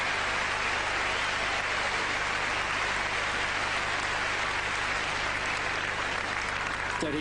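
Tennis crowd applauding Andy Roddick at the 2001 Basel indoor tournament, a dense, continuous wash of clapping from a large audience that holds steady throughout without a break.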